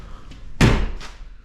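A single heavy thud as a door is shut inside a spray booth, near and sharp with a short boomy tail, after a few seconds of low room noise.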